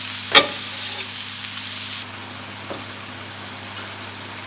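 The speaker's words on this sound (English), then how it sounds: "In with the diced tomato." Diced tomato hits a hot pan with one sharp splash and sizzle, then a steady low frying hiss with a few faint stirring scrapes, close by and with no talk, while beans and beef tomahawk are being cooked.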